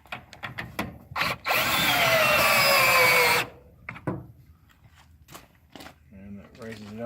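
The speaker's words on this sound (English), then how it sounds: "I just take a drill" A power drill runs loud and steady for about two seconds to raise the back end of a chicken tractor, with clicks and handling noise before and after it and brief talk near the end.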